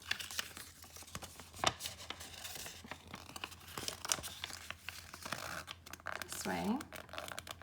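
Paper being folded and creased by hand during a symmetry lesson, with faint crinkling, scraping and tearing-like rustles throughout and a brief spoken remark over it.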